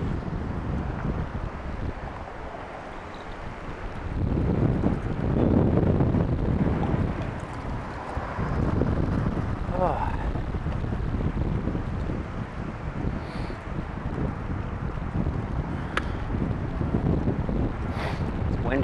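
Gusty autumn wind buffets the microphone during a city bike ride around town, a continuous rough rumble that swells in stronger bursts around the middle, with faint traffic noise beneath.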